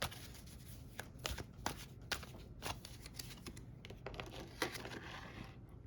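Tarot cards being shuffled and drawn, a quick run of soft papery riffles and flicks punctuated by sharper slaps as cards are set down, close and fairly quiet with no voices.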